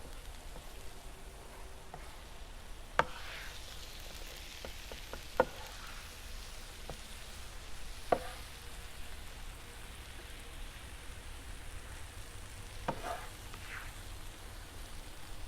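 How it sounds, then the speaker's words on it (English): Seasoned fajita vegetables sauteed on a griddle give off a soft, steady sizzling hiss, with a few faint scrapes and taps as they are stirred and turned. "This mixes up the seasoning on the vegetables and helps get all sides of the vegetables sauteed."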